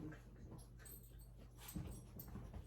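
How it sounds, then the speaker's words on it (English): Dogs play fighting in the background, with faint whimpers, pants and a brief growl over a low, steady indoor murmur, all quiet and distant. "Don't you love the dogs just play fighting in the background of this video?"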